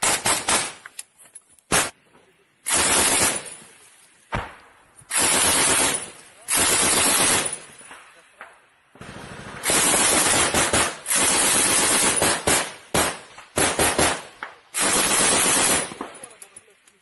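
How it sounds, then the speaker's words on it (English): Gunfire from a weapon fitted with a suppressor in a war news report rattles out in loud, harsh bursts of rapid shots, repeated many times with brief silent gaps between. "Popping off some more shots."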